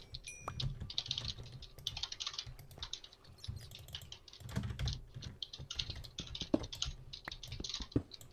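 Someone types on a computer keyboard during a Minecraft UHC game session, rapid uneven bursts of key clicks with short pauses between, close-up and fairly quiet, with no speech over it.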